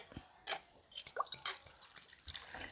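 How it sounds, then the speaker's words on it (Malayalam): Water goes into a pan of cooking clam meat, heard as faint, scattered splashes and drips at close range with quiet gaps between them. No one speaks. "നമുക്ക് കുറച്ച് വെള്ളവും കൂടി ഒഴിക്കാം"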